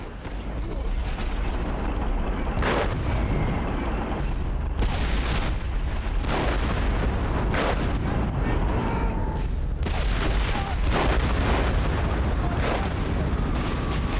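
Heavy artillery fire in a war video game, repeated booms and bursts over a dense, continuous rumble of battle, loud and close throughout with scattered sharp impacts.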